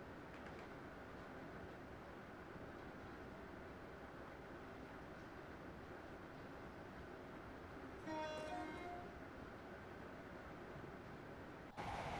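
A Class 321 electric train in the Train Sim Classic game, on the route from Tring to London Euston, runs with a faint, steady rumble, broken midway by a brief horn-like tone.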